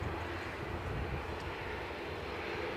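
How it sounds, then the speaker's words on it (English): Cessna 560 XL Citation XLS jet at Edinburgh Airport giving off a steady broadband engine roar at moderate distance, with no talk. "So this is our Cessna 560 XL Citation"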